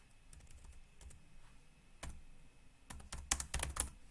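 Text is typed on a computer keyboard, scattered soft key taps that build into a quicker, louder burst of clicks near the end, close and alone under faint background hiss.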